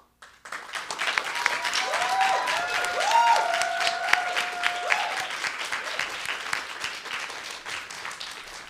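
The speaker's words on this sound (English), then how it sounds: "Yes, one more big round of applause." An audience claps and cheers after a reading, a dense and sustained round of applause that gradually thins toward the end. Faint tonal sounds appear briefly in the middle.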